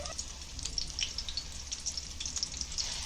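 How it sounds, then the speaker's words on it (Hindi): Frozen Tunday kebabs shallow-fry in a little oil over low heat, producing a soft, continuous crackling sizzle with fine spitting pops, close and steady. "तेल गरम करने रखे, बारीक गैस पे चोलो फ्राई करेंगे, डीप फ्राई नहीं करेंगे"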